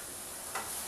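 Minced garlic sizzles faintly in leftover oil in a pan, a steady low frying hiss with a brief brighter burst of spatter partway through.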